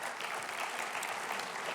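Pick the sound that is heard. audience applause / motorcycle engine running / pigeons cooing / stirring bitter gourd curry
audience applause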